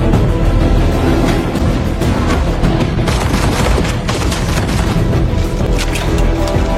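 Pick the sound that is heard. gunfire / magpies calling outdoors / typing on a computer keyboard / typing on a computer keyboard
gunfire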